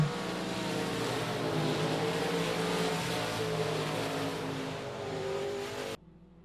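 Modified race cars, including a 90 limited modified, racing at I-37 Speedway: a sustained loud multi-engine roar with overlapping pitches that ends abruptly.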